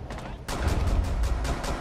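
A pistol fires in a video game, a rapid sequence of sharp close shots with echoing tails after a short quieter start.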